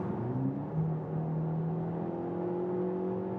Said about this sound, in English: Now in the sport mode, engine is then directly on.